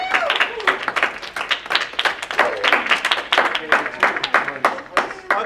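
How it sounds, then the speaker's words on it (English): An audience claps for contestants, with sharp, distinct hand claps in a lively, fairly close, steady burst. "Let's clap up for our contestants."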